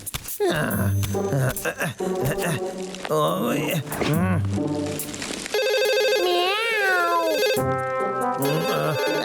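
A telephone ringing late at night in a Boonie Bears cartoon: a bright, repeating electronic ringtone with warbling tones, preceded by cartoon character voices talking and shivering sounds.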